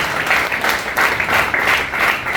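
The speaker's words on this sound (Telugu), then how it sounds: "లీడర్స్ అందరూ చాలా క్లాప్ చేయండి." An audience at a leaders' gathering claps steadily, a dense continuous round of applause that swells and dips in waves without pause.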